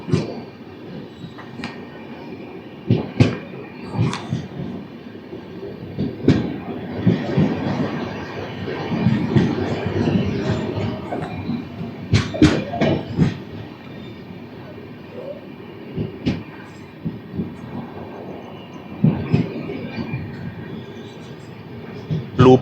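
Tirupati–Secunderabad Padmavati Superfast Express rolling along the rails past a skipped station: a loud, steady rumble of wheels on track with intermittent clacks and squeals over joints.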